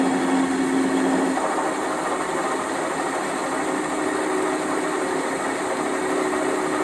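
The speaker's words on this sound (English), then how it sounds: "this time we'll spot with a centre drill" A centre drill spots a hole in metal during repair work on a Wadkin planer, giving a steady machine hum and whine that runs continuously at moderate loudness, with no talking.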